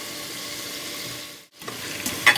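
Prawn biryani masala sizzles and fries in a pan, a steady hiss with stirring scrapes that briefly drops out, then returns with a few clinks near the end.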